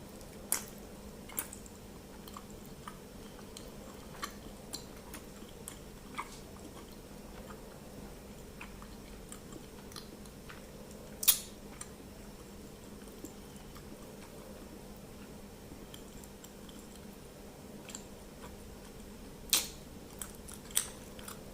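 Someone eats chewy 7-Eleven dango, with faint, soft, sticky chewing and squishing sounds scattered through a quiet room and a couple of sharper clicks standing out. No one speaks.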